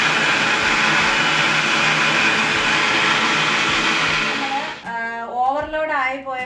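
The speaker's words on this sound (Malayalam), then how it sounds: "ഓവർലോഡ് ആയി പോയപ്പോൾ നമ്മുടെ മിക്സി ചെറിയൊരു പണി തന്നു." Mixer grinder grinding ingredients, a loud steady whirring roar that runs for about four and a half seconds, then cuts off abruptly as a voice begins talking.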